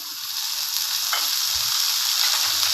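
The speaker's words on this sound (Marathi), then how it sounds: "कांदा पण आता छान परतवून द्यायचा, सोनेरी कलर येऊ द्यायचा। त्यामध्ये थोडंसं तेल टाकायचं" Onion sautés in a little oil in a pan for a spicy soybean curry, giving a continuous close sizzle with a faint stir or two.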